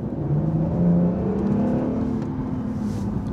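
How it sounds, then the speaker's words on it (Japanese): A new hybrid Honda NSX pulls away hard from a toll booth in sport mode, its engine and motor making a loud, steady whir that climbs smoothly in pitch from inside the cabin. "さあ料金所からの加速です"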